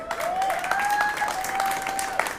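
An audience claps steadily for a couple of seconds, a dense patter of hands filling the room with a thin whistle-like tone held over it.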